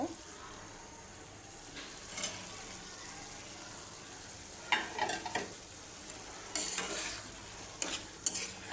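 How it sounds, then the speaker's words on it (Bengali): Potatoes stir-fried with beef in a pan: a steady sizzle runs throughout, broken by several scraping stirs of a utensil that come close and loud in short bursts. "এখন মাংসের সাথে আলুগুলো কষাই নেব।"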